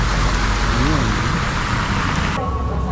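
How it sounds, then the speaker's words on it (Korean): Heavy rain pours down on the streets of Antigua, Guatemala, a loud, dense, continuous hiss of drops on surfaces with faint traffic mixed in, and a voice speaks briefly partway through. "이거 비가 잘 안 온다 들었는데 비가 주룩주룩."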